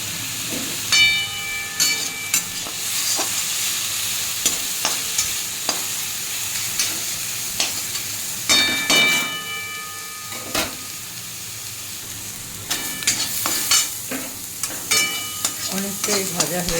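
Papaya and capsicum frying in a pan with a steady sizzle, broken by repeated sharp scrapes and clatters of a spatula stirring, loudest in bursts near the start, middle and end.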